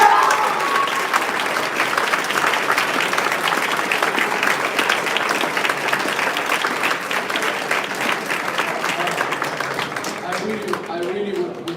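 Sustained applause fills a hall after a Vis Moot round-of-32 arbitration moot court session, steady dense clapping from a sizable audience that tapers slightly toward the end.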